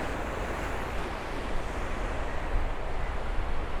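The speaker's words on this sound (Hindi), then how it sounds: "समुंदर भाई उफान पे आ रहा है" Rough sea waves surge against the Mumbai coastal road promenade in a steady, loud wash of surf, mixed with gusty wind buffeting the microphone and no voices.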